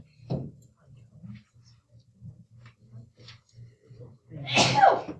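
A single sharp sneeze bursts out near the end after a few seconds of quiet rustling and faint ticking.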